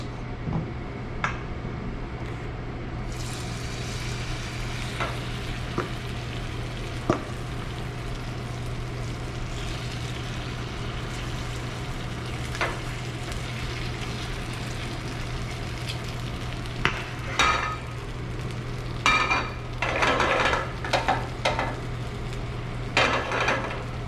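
Korean pa jeon pancakes fry in a preheated pan over medium-low heat, a steady low sizzle under scattered clicks and scrapes of a spatula and pan, louder clatter near the end.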